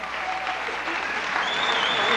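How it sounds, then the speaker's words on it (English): Studio audience at a 1991 media game show, critics versus KBCO radio team, a dense, steady burst of applause that holds evenly with faint voices underneath. "Let's give him 30 points and a big round of applause."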